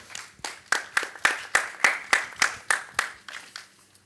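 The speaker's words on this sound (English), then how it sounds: "let's give her a round of applause" A classroom group claps for a student in a round of applause, about a dozen sharp clap bursts in a steady rhythm, close and fairly loud, fading out at the end.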